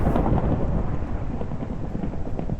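Thunder from lightning in the video game Minecraft, a loud, continuous rumbling roll that fills the whole moment, mixed with a rain-like hiss and no talking.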